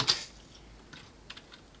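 A computer keyboard gives a few sparse, light keystroke clicks in a quiet room, with one sharper tap at the start and fainter taps after it.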